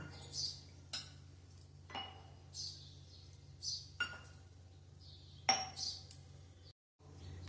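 Curd being mixed into falali dhokla batter in a bowl, with a spoon knocking against the bowl in clear, evenly spaced clinks about once a second over quiet background hum.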